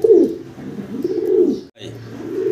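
Pigeons at a pigeon farm coo in low, rolling phrases, close and continuous, with a brief pause near the end before the cooing resumes.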